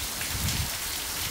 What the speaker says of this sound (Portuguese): E a chuva voltou a cair em Paramirim novamente